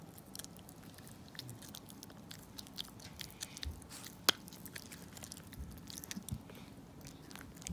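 A dog chews and bites a treat up close, with irregular crunchy, squishy mastication clicks and soft wet bites repeating steadily over several seconds, quiet room ambience behind.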